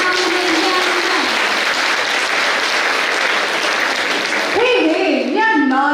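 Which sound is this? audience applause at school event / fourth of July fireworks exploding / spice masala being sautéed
audience applause at school event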